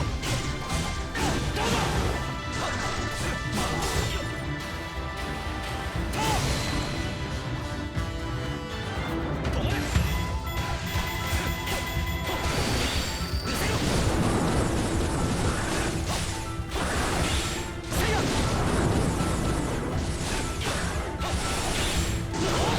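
Sidon's stun-lock combo in Hyrule Warriors: Age of Calamity, a dense run of heavy smashing impacts, crashes and water-like bursts that hits repeatedly over a thumping game soundtrack for more than twenty seconds.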